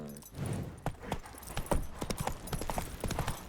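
Roach the horse trotting in The Witcher 3: Wild Hunt, with a steady clip-clop of hooves running through the whole stretch, fairly close and alone without talk.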